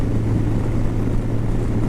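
A Kawasaki Concours ZG1000 sport-touring motorcycle cruises at about 70 mph on the highway, a steady loud engine drone and wind rumble with no break.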